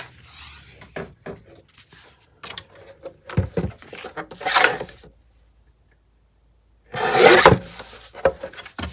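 Paper is trimmed for the back pocket of a paper doll tag book, giving close, intermittent rustling, scraping and cutting sounds in short bursts, with a longer pause before one final louder scrape.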